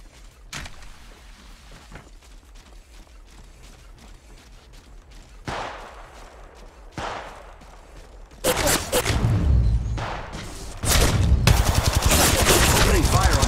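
Gunfire in the mobile battle royale Apex Legends Mobile, sparse thumps at first, then loud sustained rapid automatic bursts of shots dominating the final seconds.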